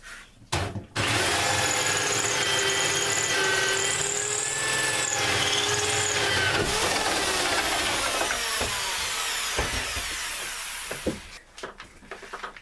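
A hole saw on a power drill bores through a butcher block countertop, a loud sustained whine and grinding that runs for about ten seconds before spinning down, followed by a few clunks.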